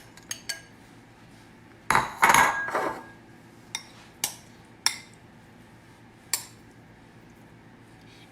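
Vegetables, beans, peppers and onions being added to a Mexican lasagna dish, with scattered metallic clinks of a spoon against the dish and one longer burst of clattering and scraping, close by with no speech.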